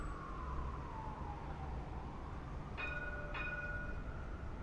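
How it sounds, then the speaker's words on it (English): A Kansas City streetcar passes nearby amid steady street rumble, with a falling tone sliding down followed by two bright tonal chimes or bell-like signals in quick succession. "And there's the streetcar."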